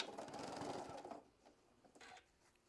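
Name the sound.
sewing machine stitching quilt block seam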